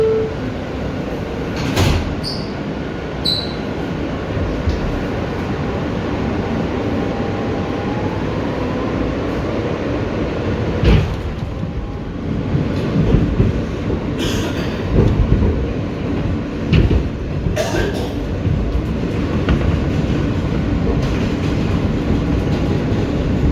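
An R160B Siemens Q local subway train running on the BMT Brighton Line in New York, with a steady loud rumble and wheel roar, periodic clanks and rattles over track joints, and a faint squeal partway through.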